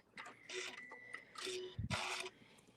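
An embroidery machine backstitching a couple of stitches, giving short, mechanical whirring bursts with a tonal whine and a soft thump, close and faint.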